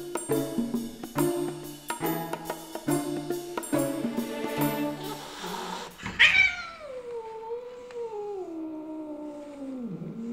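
A cat meows in a long, wavering, drawn-out call in the second half, alone and close, after a stretch of musical sound.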